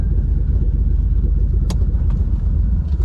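A BMW E36 M3 engine idles with a loud, steady low rumble while the car is moved, a couple of brief sharp clicks cutting through near the middle.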